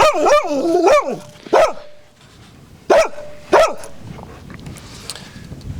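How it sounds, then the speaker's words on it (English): Old golden retrievers bark and yip loudly at close range around a farm ute in a wheat paddock, with several sharp barks in clusters and softer rustling between them. "Time to let the doggies get up on the ute."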